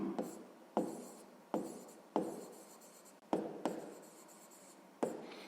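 A pen writes a fraction on paper by hand in short scratchy strokes, roughly eight quick marks in irregular rhythm, close and quiet with no speech.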